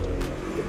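A pigeon at a bird seller's stock gives a brief low coo, a single short throaty call over a constant background hum.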